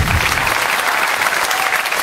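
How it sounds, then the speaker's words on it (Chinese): A studio audience at a televised talent show applauds loudly and continuously, a dense wash of clapping that holds steady from start to finish. "我们掌声送给他"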